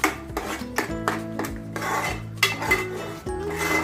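Chilli powder is mixed into an Andhra-style seer fish (vanjaram) curry in a pan, with repeated close scraping strokes of a utensil against the metal in an uneven rhythm and no voices.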